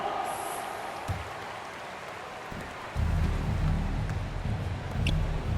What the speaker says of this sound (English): Fans, please give a big round of applause for the Pups.